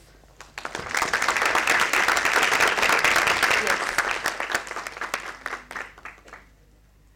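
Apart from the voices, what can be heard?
students clapping for themselves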